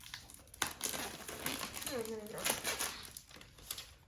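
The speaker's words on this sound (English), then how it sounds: "Sorry it's taking a while to cut this." Tough Wyze headphones packaging is cut open up close, with crinkling and rustling plastic and cardboard, scraping cuts and faint murmured speech.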